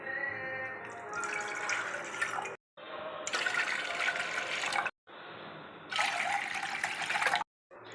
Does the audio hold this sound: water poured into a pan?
yes